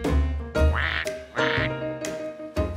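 Several short nasal quacks in uneven bursts, close and fairly loud, with brief pauses between calls, in a kids' cartoon.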